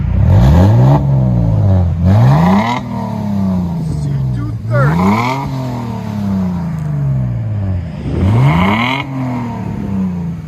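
A 2007 Mercedes C230 Sport V6 with dual exhaust and Black Widow exhaust revs up and falls back repeatedly, four or five sharp throttle blips with a deep exhaust tone, close by, with voices in the background.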